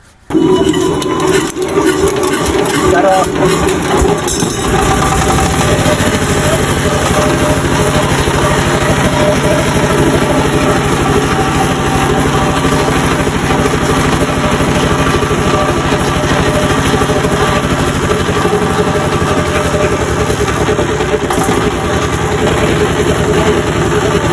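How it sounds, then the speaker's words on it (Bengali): A repaired, restored China 32 HP diesel engine starts almost at once and settles into a loud, steady, close-up running clatter for over twenty seconds, with no voices. "তাহলে চলুন ইঞ্জিনটা স্টার্ট করা যাক"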